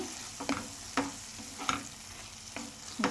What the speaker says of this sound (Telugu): దీంట్లో కొంచెం మనం కొత్తిమీర అనేది వేసేసుకుందామండి